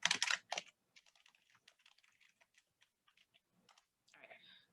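Clicks of typing on a computer keyboard, a scattered run of light, close taps with brief pauses, following a short burst of louder sound at the start.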